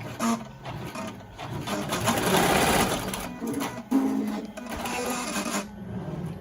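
A Melco embroidery machine sews elastic placement stitches on a face mask, a fast loud rhythmic needle chatter that runs in bursts with short pauses, close up and without speech.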